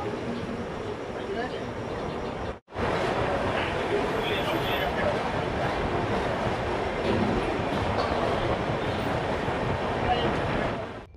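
An LHB Garib Rath Express pulls out of Asansol on the Kolkata–Patna run, heard from on board as a steady, loud rumble of wheels and carriage noise after a brief dropout.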